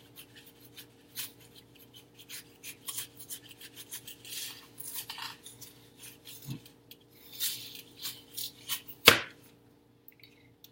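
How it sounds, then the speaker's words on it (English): Scraping and chopping of a spoon being forced through an apple, a run of soft, uneven rubbing and cutting strokes with one sharper knock near the end, close and fairly quiet over a steady low hum. "I would definitely rather be having a knife right now instead of using a spoon to cut the apple"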